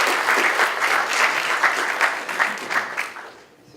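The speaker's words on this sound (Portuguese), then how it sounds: "Uma salva de palmas para o Petri." An audience at a game design conference talk claps in welcome, a dense burst of applause that holds steady and then fades out toward the end.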